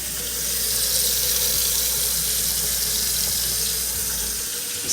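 Water gushes steadily from a kitchen sink faucet during a move-in inspection flush test, a constant hissing splash that holds at an even level throughout.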